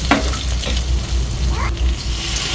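Egg and instant-noodle spice mix are stirred in a hot frying pan, a close, steady sizzle broken by a few scraping strokes of the utensil.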